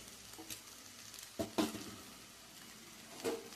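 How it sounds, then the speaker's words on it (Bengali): Green chili paste being stirred in a frying pan, with a soft steady sizzle and a few sharper scrapes of a spoon against the pan, heard up close with no voices. "এটাকে ভালো করে নাড়াচাড়া করে নেব।"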